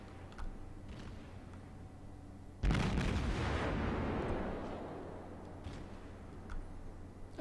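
A heavy naval artillery salvo fires at enemy ships in World of Warships, one big booming blast rising from a quiet hum and rolling away over several seconds.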